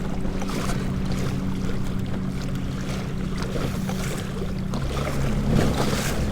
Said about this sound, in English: Wind and waves just going right over it.